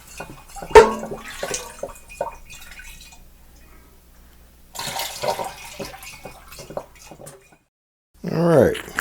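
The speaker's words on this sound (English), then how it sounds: "I think I'll just scoop it out and pour it in" Homemade muscadine wine is scooped and poured into a carboy in a few separate bursts, with splashing, dripping and light clinks of a utensil against the vessel, separated by quiet pauses.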